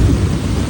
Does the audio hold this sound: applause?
no